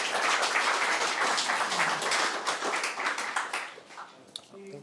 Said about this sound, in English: Let's give him a round of applause as he comes up on stage.